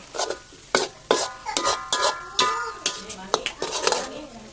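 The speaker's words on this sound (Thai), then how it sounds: "หลังจากปรุงแล้วเราก็ผัดให้มันงวดอีกหน่อยนะครับ" Spatula stirring and scraping Thai roasted chili paste with minced pork in a pan, repeated metallic clanks and scrapes over a soft sizzle, close and steady.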